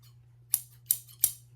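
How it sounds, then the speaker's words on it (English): Old yellow-handled scissors made in the USA snip three times in quick succession, each a sharp close metallic click over a faint low hum. "And now I have a pair of yellow handled. Made in the USA scissors."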